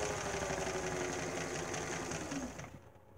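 An old, previously stiff sewing machine, freshly oiled and driven by a foot pedal, runs with a loud, steady mechanical whir and rattle for under three seconds, then slows and stops.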